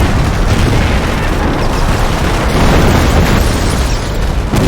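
Artillery shells bursting in the World War II strategy game Company of Heroes, a dense, continuous rumble of overlapping booms at full loudness with no clear gaps between blasts.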